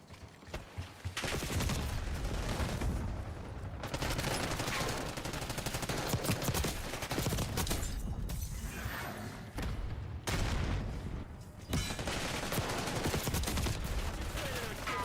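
Sustained rapid automatic fire from the Jackal SMG in the Black Ops 6 video game, loud and dense bursts running almost nonstop with a few brief breaks between strings of shots.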